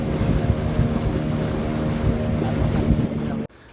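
Boat ride on a cruise near mangroves in Pondicherry, with a steady engine drone, wind buffeting and water wash running loud and close, then cutting off abruptly near the end.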